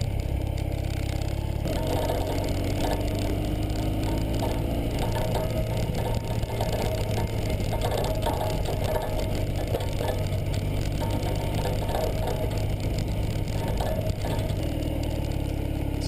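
A Ural sidecar motorcycle engine labors steadily in two-wheel drive up a steep, icy hill under four to five inches of snow, a continuous close, rumbling drone with no pauses.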